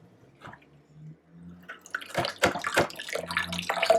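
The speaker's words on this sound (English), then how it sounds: "And the juice is actually going into the Vitamix Craft." Juice dripping and splashing through a strainer into a Vitamix container, a run of close, irregular wet drips and trickles that grows busier and louder toward the end.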